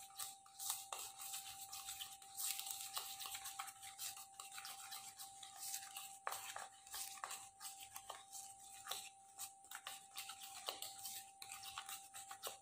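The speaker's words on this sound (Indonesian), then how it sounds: "Kemudian dua bahan ini kita aduk dulu." A spoon stirs hand body lotion and a tea bag's contents in a bowl, giving faint repeated scraping and light clinks in an irregular rhythm, close and quiet with a steady high tone behind it.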